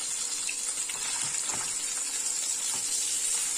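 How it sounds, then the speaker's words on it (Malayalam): Mustard seeds spluttering in hot oil in a pan while cooking Kerala fish pollichathu, a steady bright crackling hiss with scattered small pops, close and continuous throughout. "കടുക് പൊട്ടി വരുന്നുണ്ട്."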